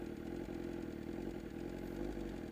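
A motorcycle engine idles steadily just after being restarted, a continuous low throbbing rumble close by with faint clatter and no talking.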